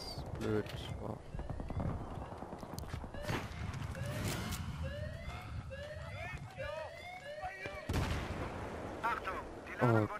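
Gunfire and explosions crash through a Battlefield 3 multiplayer match on Operation Metro, with bursts of shots and booms over game sounds while players talk throughout.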